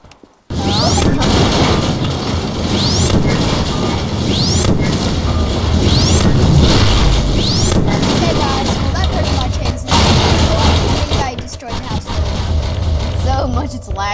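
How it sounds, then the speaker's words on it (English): A house being smashed apart in Garry's Mod with a destructible house mod: repeated loud crashes, booms and splintering impacts in rapid succession over continuous talk, with a short pause near the end before more debris noise. "Just destroy the other room so that we can say we completely did the destructible house mod."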